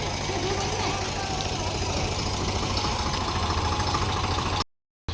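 A tractor engine runs steadily on a farm, a loud continuous low rumble with a dense rattling texture that stops abruptly near the end.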